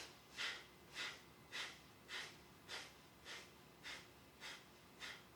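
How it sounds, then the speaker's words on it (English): Eight forceful exhalations during a belly-breathing exercise, evenly spaced about two thirds of a second apart, each a short breathy puff like a piston, close and fairly quiet with no talking. "breathing out forcefully"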